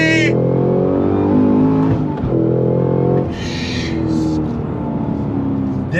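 A 2022 Cadillac CT5-V Blackwing engine roars loudly up close, climbing through revs with a quick gear-change dip and rising again, a harsh high-pitched whine layered over the deep, continuous exhaust drone.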